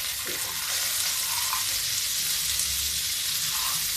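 Sprouts sizzle in hot oil with cumin seeds, a constant bright hiss with soft bubbling and an occasional light knock, heard up close without talk.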